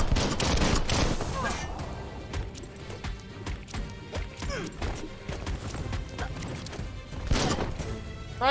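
Gunfire in the Biomutant video game, with a rapid stream of sharp shots and crashes throughout, loud and close, with people talking over it.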